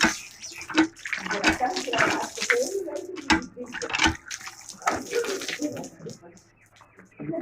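Water gushing from a village hand pump tap in rural Sindh, Pakistan, with irregular splashing bursts and pump strokes close by, while people talk over it.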